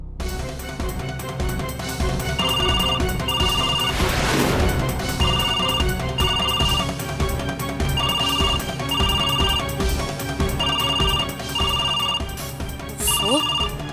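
A telephone rings in repeated electronic double bursts, steady and fairly loud, continuing for several cycles with a brief crash partway through.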